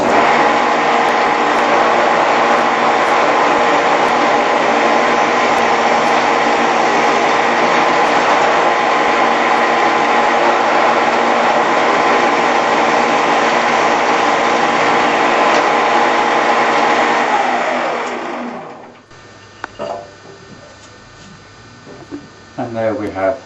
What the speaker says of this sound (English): And there we have screw pockets.